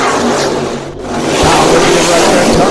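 Street stock race cars roar at a green flag start on a short dirt oval, a loud, dense wall of engine noise that dips briefly then surges back under an announcer's talk.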